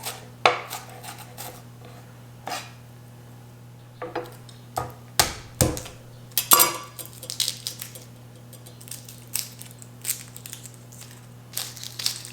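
A knife chops a strong onion on a cutting board with irregular sharp taps, sparse at first and then quicker and denser, close and fairly loud over a steady low hum.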